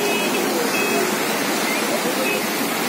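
The Kalisindh river in flood after heavy rain in Jhalawar produces a loud, continuous roar of rushing water that fills the whole stretch without a break.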